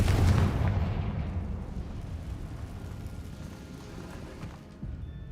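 A Confringo blast spell cast in Hogwarts Legacy, a deep rumbling burst at the start that fades into a long, low roar of debris and echo, loud and alone without speech.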